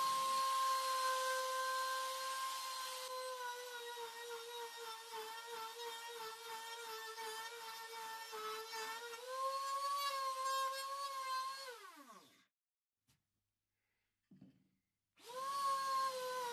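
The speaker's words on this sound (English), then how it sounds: "Firstly, I am cutting 4 mortises into the center of the boards" A power tool cuts mortises into the center of wooden boards for a bunk bed, a steady high whirring whine running loudly for about twelve seconds, then winding down, a short pause, and starting up again.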